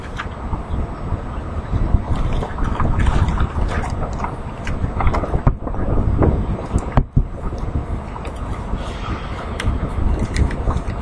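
Strong outdoor wind buffets the microphone in loud, uneven gusts during an outdoor sermon, with rumbling bursts rising and falling throughout.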